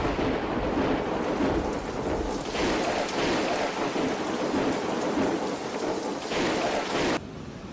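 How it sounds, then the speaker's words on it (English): A European thunderstorm: heavy, steady rain pours loudly with rolling thunder rumbling underneath, continuous and close, then the sound cuts off abruptly near the end. "A powerful storm swept across Europe,"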